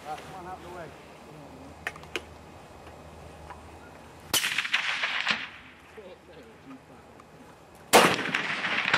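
Gunshots ring out at an outdoor range and hit steel target plates, two sharp loud cracks each followed by a brief ringing decay, with a few faint clicks in between.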